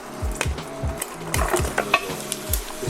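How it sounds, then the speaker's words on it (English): Carrots and onions sizzle in olive oil and leftover meat fat in a pan while cooking a lasagne base. A steady frying hiss runs throughout, broken by repeated close scraping strokes as the vegetables are stirred. "We'll start off by first just adding the carrots and the onions to the olive oil and some of the meat fat that remain in the pan."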